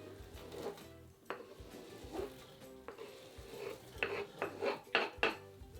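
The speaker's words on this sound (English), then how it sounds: "I'm going to chop 2 onions. I'm going to add them to the red cabbage in the pan." Chopped onions tipped into a pan of red cabbage, with faint clattering and scraping of a utensil against the pan in short irregular bursts, louder toward the end.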